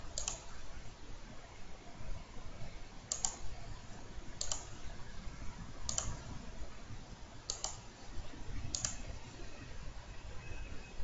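A computer mouse clicks six times at spaced intervals, sharp and close, over a steady low hiss.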